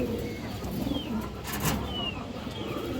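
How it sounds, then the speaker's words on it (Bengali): An Afshan male pigeon coos softly amid background noise, with low murmuring calls and a faint chirp or two from nearby birds, all fairly quiet and steady throughout. "সুন্দর একটা আফসান বাঁকা নর কবুতর মাশাআল্লাহ"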